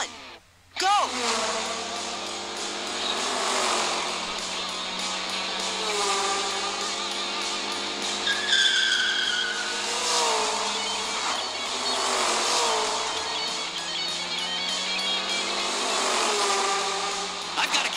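Cartoon race cars speed off at the start of a race in a children's counting adventure, with rising engine whines and skidding squeals layered over a busy soundtrack.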